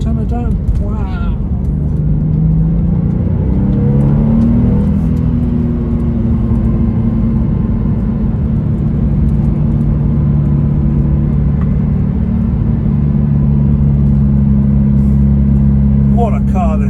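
A sports car with a Tiptronic transmission cruising on a mountain road near a dam, its steady engine drone and road rumble loud inside the cabin, with people talking over it.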